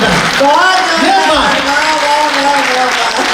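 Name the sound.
audience applause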